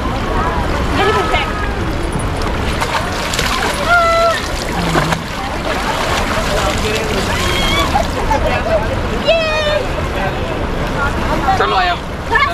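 Water splashing in the Ganga River at Rishikesh, repeated splashes over rushing river water and wind, with people laughing, shouting and talking throughout.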